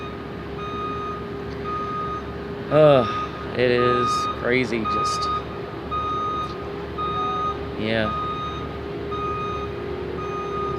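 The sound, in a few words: truck reversing beeps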